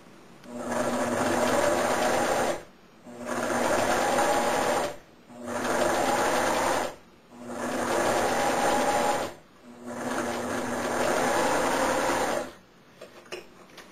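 A sewing machine runs in five long, loud, steady whirring bursts, each stopped by a brief pause before the motor spins up again.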